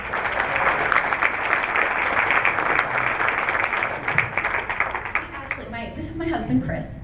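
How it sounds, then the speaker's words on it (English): Audience applause at an interview event, dense steady clapping across the whole stretch, loud and close, tapering off near the end as a few voices emerge. "one more round of applause for Allison Lang"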